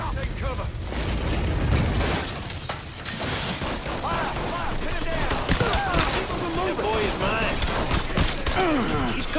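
Gunfire in Mafia 3 during a firefight, with dense bursts of shots, booms and cracks layered over continuous loud shouted voices, the chaotic noise staying heavy for the whole stretch.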